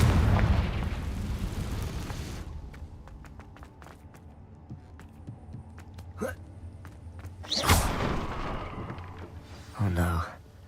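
In the video game Hogwarts Legacy, the Confringo blasting spell goes off in a few sharp, booming bursts spread over several seconds, separated by quieter game ambience.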